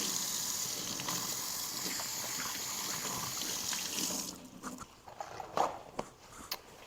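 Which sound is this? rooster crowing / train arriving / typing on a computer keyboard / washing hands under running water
washing hands under running water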